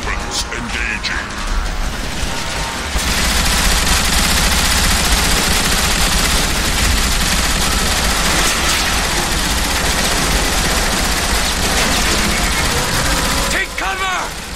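Weapons firing in the video game Transformers: War for Cybertron, a dense, loud, continuous burst of rapid gunfire with mechanical clatter that runs almost the whole time, easing briefly near the end.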